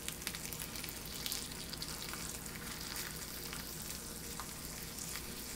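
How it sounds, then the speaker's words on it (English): Strips of bacon frying in a pan for breakfast burritos, a steady close crackling sizzle with dense popping that runs unbroken and alone. "Get on in there, bacon. Get on in there. And we're going to do 4 strips of bacon"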